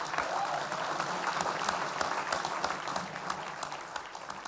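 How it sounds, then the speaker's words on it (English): An audience breaks into sustained, dense applause, many hands clapping loudly and evenly throughout with a faint crowd murmur underneath. "Applause."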